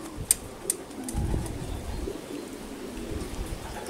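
Racing pigeons at a loft give soft, rolling coos over a grainy, rain-like background, with a couple of light taps at the start.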